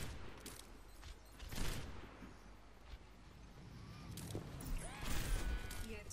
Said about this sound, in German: Schuss, ein Treffer.